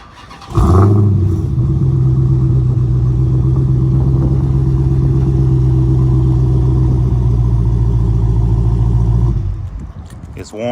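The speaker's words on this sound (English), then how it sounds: "I'll give y'all a quick start up." A car engine with quad exhaust and MagnaFlow mufflers cranks and fires up, then settles into a loud, deep, steady idle rumble that holds for several seconds before cutting off near the end.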